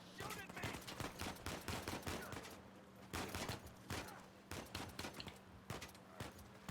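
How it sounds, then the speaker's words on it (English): Enemy gunfire in the Uncharted 4 video game, rapid bursts of shots cracking in quick uneven succession throughout, loud and dense with brief pauses between volleys. "Oh, that guy's shooting at me."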